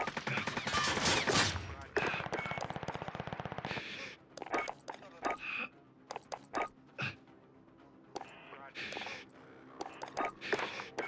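Gunfire in Call of Duty: Warzone on the Cauldron map, dense rapid shooting at the start, then scattered bursts and single shots mixed with game radio voices and other battle noise.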